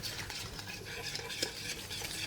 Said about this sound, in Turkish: Karıştırıyoruz şöyle güzel bir şekilde.